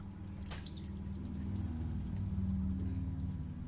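Water poured and flushed through a potted plant's soil, a steady close trickle and drip running throughout with faint splashes near the start, no voices.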